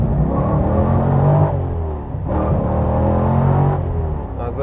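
A Subaru BRZ with a swapped-in LS3 V8 makes about 500 hp and pulls hard in first gear. The engine roars and revs up in loud rising sweeps, with a short dip between pulls.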